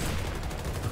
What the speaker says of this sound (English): Oh, is my pistol like a hand cannon?